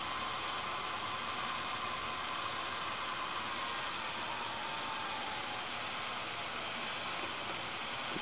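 A Mitsubishi HS-U20 VCR rewinding a tape gives off a steady, unbroken whirring hiss at moderate level, with no voices over it.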